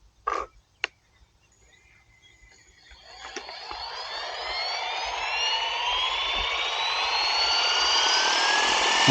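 Flywing FW450 V3 RC helicopter spooling up for takeoff: a couple of sharp clicks, then a close electric whine and rotor rush that climb steadily in pitch and loudness until it runs at full speed.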